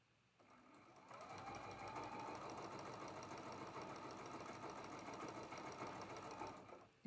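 A sewing machine runs steadily through a quilt corner block, its rapid needle chatter starting after a brief quiet beat and holding an even, continuous rhythm close up until it stops near the end.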